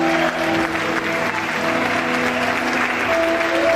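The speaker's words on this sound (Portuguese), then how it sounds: "Aplaude o Senhor nesse momento." Church congregation applauding during an Easter service, steady dense clapping that fills the room, with sustained musical tones beneath it.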